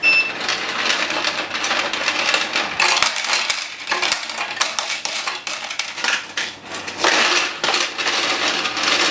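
A EUROX 520 coin counting machine whirs while sorting coins into slots, the coins rattling and clinking rapidly and continuously, a busy metallic chatter up close.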